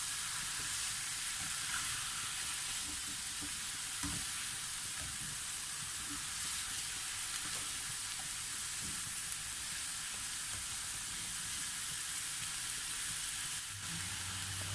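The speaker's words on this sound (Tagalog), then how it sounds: "Saka po natin ito haluin para ma-mix po lahat yung ating nilagay na mga ingredients" Seafood and vegetables, including bitter melon, sizzle steadily in a frying pan for the whole stretch. Faint stirring scrapes come through under the hiss.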